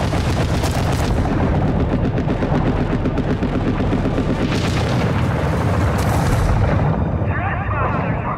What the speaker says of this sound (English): Shooting at me, stop it.